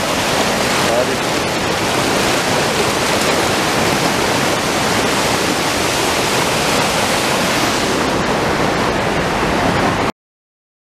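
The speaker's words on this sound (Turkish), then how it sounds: "Ama muhteşem bir güç yani. Şelalenin gücü, o su yoğunluğu" The powerful Düden waterfall in Antalya roars with heavy falling water, a steady, loud, broadband rush that stays constant from start to finish, close by, then cuts off abruptly.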